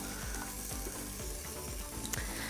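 Steak and olive oil sizzling in an Instant Pot, a steady faint hiss with soft repeated scraping and ticking sounds throughout.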